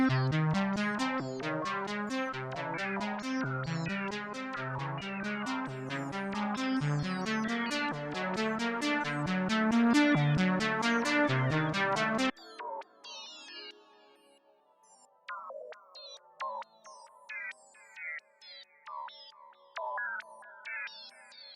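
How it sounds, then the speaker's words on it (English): An IDM drum kit beat copied onto a sequenced pad gives a dense, busy stream of pitched, bell-like melodic hits that carry the drum rhythm. Around twelve seconds it switches to a sparser, quieter, clicky transition section, with no voices. "So I took this IDM kit beat and I copied it down here"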